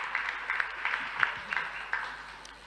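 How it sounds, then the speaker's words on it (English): Sparse, scattered clapping from a school debate audience, a handful of distinct hand claps at uneven intervals over a quiet room, faint and thin rather than a full ovation. "Please applaud them better than that."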